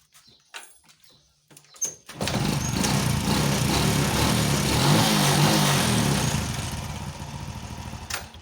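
A small engine with a burned-off, previously fouled spark plug catches and starts after a few weak attempts, then runs loud and steady at close range with no talk.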